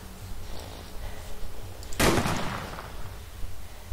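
A single loud, sharp gunshot from a gun in the DayZ video game cracks out mid-way and decays with a rumbling tail, set against a low, steady background murmur.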